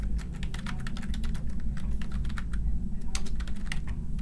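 Rapid, close-up clicking of keys as an equation is typed on a computer keyboard, a dense irregular rhythm of taps over a low steady hum.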